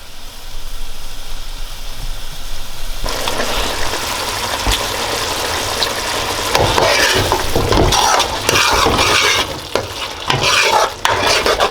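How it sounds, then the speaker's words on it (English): Thick shrimp curry paste bubbles and simmers in a pot, a steady loud sizzle and stirring scrape that swells partway through, with wet pops and clatters and no talking. "We're gonna let this simmer for about 10, maybe 15 minutes"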